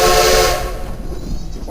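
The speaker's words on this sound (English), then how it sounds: "why don't you give us 3 toots on that whistle?" A steam locomotive's whistle gives one loud, sustained toot that fades after about half a second, followed by quieter rumbling train and yard noise.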